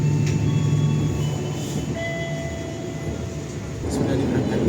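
The Lodaya passenger train in Indonesia rumbles along at speed after leaving Solo Balapan station, heard from inside a carriage, with a steady roar and faint high whines and rattles throughout.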